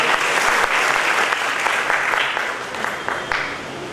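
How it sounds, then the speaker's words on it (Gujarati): Loud, dense applause from a crowd at a marriage matchmaking event for people with disabilities, steady clapping throughout that eases slightly toward the end. "જોરદાર તાળીઓથી આપણે"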